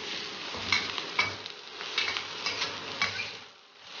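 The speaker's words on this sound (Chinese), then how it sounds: "炒香后放入青红辣椒、洋葱和葱段，大火把它翻炒几下" Chillies, onion and scallions stir-fried in a hot wok over high heat, with a steady close sizzle and repeated bursts of stirring and scraping every half second or so, easing off near the end.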